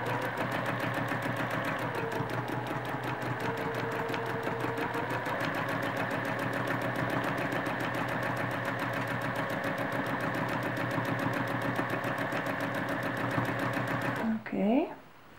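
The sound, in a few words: sewing machine stitching in the ditch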